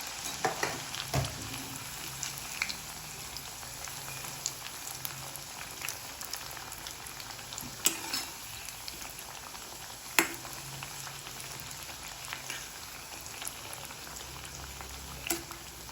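Methi bajri-suji vadas bubbling and frying in oil, a soft, continuous sizzle with occasional sharper pops and clicks, heard close with no voices.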